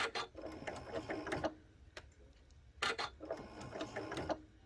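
A quilting sewing machine stitches very slowly in two short, close bursts of whirring, clattering needle strokes. A single click and a quiet gap fall between the bursts, with no talking.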